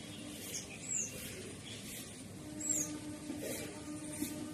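Sparrows and other birds give a handful of short, high chirps and tweets, scattered irregularly at moderate distance over a quiet rural background.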